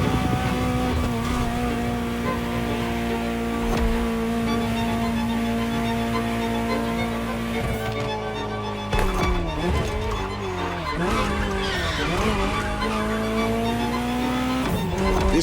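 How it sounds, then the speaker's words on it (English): A Ferrari 308 GTO in the video game The Crew Motorfest holds a steady, loud engine note for a sustained run. The pitch shifts partway through, with squealing tires and revs rising and falling through turns. "just enjoy the collector's piece that is the Gran Turismo Omologato"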